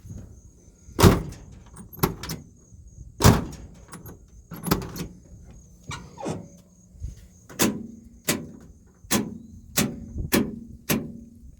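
Door of a 1973 Dodge D100 truck being opened and shut repeatedly, a series of sharp close latching clunks and thuds in an irregular rhythm, with no talk.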